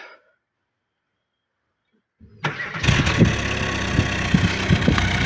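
A 2008 Daewoo Lanos 1.5 petrol engine cranks over and catches after a couple of seconds of quiet, then settles into a steady, close idle with a regular rumbling pulse; a brief voice is heard at the very start.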